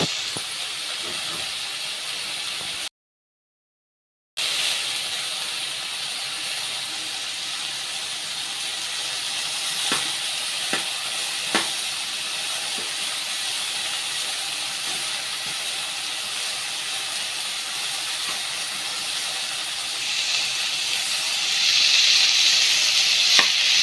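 Chayote and tomato sautéing in a pan for chutney, a steady close sizzle and hiss running throughout, with a brief gap early on, a few small pops and crackles, and slightly louder frying near the end.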